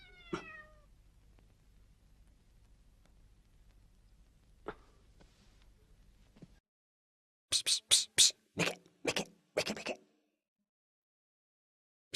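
A cat meows several times in quick succession near the end, clear, close and loud, after a stretch of quiet low hum with a brief harmonic cry at the start.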